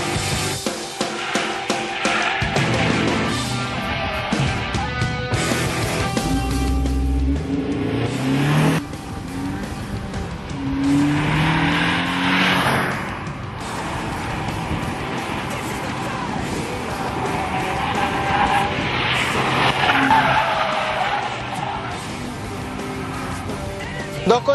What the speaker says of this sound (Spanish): para probar uno de los autos más lindos que llegó a nuestras manos este año, como es este nuevo Alfa Spider